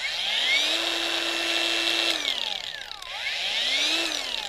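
A Procraft PWA 220 angle grinder running unloaded, a loud close high whine that spins up, holds steady, briefly winds down and dips, then revs back up again as the speed is changed.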